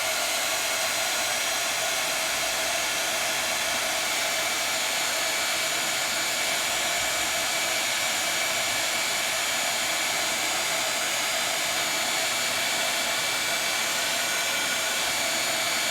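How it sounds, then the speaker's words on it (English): Heat tool melting a second coat of embossing powder, a steady loud blowing whir like a hair dryer, constant and close for the whole stretch with no talk. "So I'm melting that second coat of embossing powder into the first coat."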